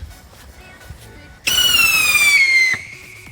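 A Klasek Scream Rocket mini RS6S firework gives a loud, high-pitched whistling squeal that rises suddenly and holds for about a second before cutting off, after quiet background crackle.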